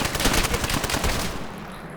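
An MP40 submachine gun in Call of Duty: World at War fires a rapid, sustained burst, loud and close, the shots tapering slightly toward the end of the two seconds.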